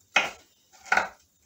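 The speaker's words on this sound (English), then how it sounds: "I'm chopping up my bacon" Freshly fried bacon being chopped with a knife on a cutting board, two distinct crisp chops about three-quarters of a second apart, close and clear with no talking.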